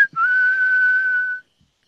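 A person whistles to imitate a whistle heard in the woods behind a house at night, giving a single clear, steady, fairly loud tone that runs just over a second and then stops.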